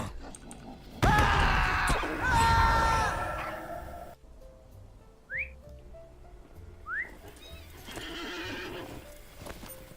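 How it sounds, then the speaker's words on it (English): A horse in the Lord of the Rings Online video game whinnies loudly, then hooves clip-clop as it moves off, with a couple of short whistle-like chirps and a second fainter neigh near the end. "Horse time. Let's get on a horse."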